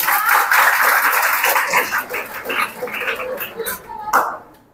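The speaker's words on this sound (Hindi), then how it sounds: "नहीं तो तालियों बजाने का लूर नहीं है, लगता है कि खापड़ा फोड़ रहा है" Students in a Bihar board Hindi exam-prep class clap, a dense, uneven patter mixed with chatter and voices, fading at the end.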